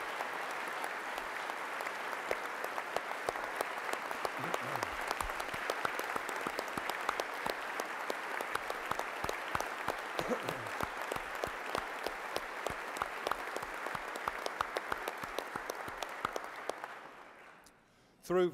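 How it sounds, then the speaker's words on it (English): Sustained audience applause fills a legislative chamber during a governor's farewell address to the West Virginia Legislature, steady dense clapping for about seventeen seconds before tapering off, with scattered louder claps and faint voices beneath. "Please, let's give him a round of applause."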